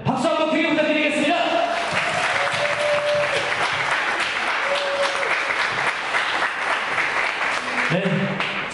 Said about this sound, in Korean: 우리 신부 예쁘다 생각하시는 분들은 박수 한번 크게 부탁드리겠습니다